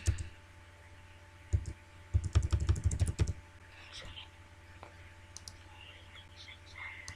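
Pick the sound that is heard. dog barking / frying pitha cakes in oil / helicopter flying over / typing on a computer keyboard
typing on a computer keyboard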